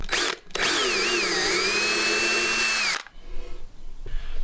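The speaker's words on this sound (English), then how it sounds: "I'm going to pre-drill these holes with a smaller drill bit than the size of screw that I'm going to use" A power drill runs steadily for about two and a half seconds, pre-drilling screw holes in wood with a small bit. The whine is loud and close, then cuts off sharply into quiet handling noise.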